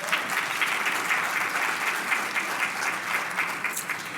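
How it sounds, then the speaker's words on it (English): Luncheon audience applauding steadily throughout, a dense even wash of many hands clapping at a health and wellness luncheon, moderately loud and sustained with no voices. "Let's give Reverend Williams a round of applause"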